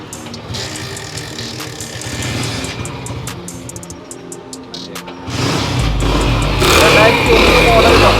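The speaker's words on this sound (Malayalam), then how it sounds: "വാഹനത്തിൻ്റെ ശബ്ദമാണ് ഇപ്പോൾ നിങ്ങൾ കേട്ടുകൊണ്ടിരിക്കുന്നത്" Engine of a used 2001 Hero Honda Splendor motorcycle with a disc brake, running steadily with a low rhythmic idle thrum that swells louder and rougher toward the end, with ticking mechanical clatter on top.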